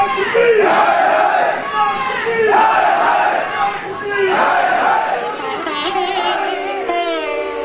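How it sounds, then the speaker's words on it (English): A convention crowd cheering and chanting a speech in unison, rhythmic massed shouts rising and falling in repeated waves, loud and close, with a brief voice standing out near the end. "The WSO crowd cheered him on."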